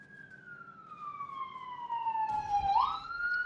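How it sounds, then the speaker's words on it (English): A wailing emergency siren in the distance sweeps slowly downward, then swoops back up with a second overlapping wail, faint under a quiet background with no talk. "Sorry about the sirens."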